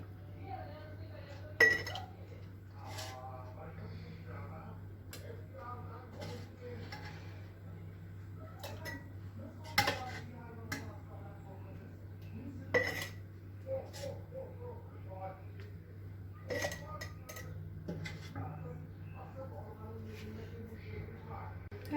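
Glass jars of homemade peach jam clink against one another as they are filled and set down, producing several sharp, bright knocks spread irregularly across quiet gaps, close by, with a low steady hum underneath.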